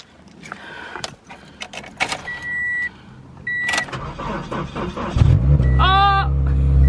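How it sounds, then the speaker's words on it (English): A car engine cranks and catches near the end after jingling keys and rustling, settling into a loud, steady rumble. "I just gotta start the car."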